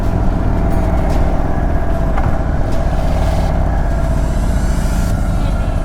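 A 2023 Indian Sport Chief motorcycle engine revving and pulling hard under acceleration on the road, a loud, dense roar that holds steady throughout with no pause.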